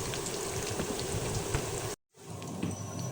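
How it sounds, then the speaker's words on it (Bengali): Chopped onions sizzle in heated oil for chicken khichuri, a steady, close crackle and hiss like light rain that cuts out abruptly for a moment and then resumes slightly softer. "তেলটা একটু হিট করে পেঁয়াজ কুচিগুলা দিয়ে দিলাম"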